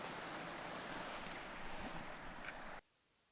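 A clear mountain stream rushes through the wilderness of the Paistunturi fells, a full, steady roar of flowing water heard up close that cuts off abruptly near the end.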